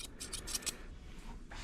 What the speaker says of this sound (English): The scissors are very unforgiving.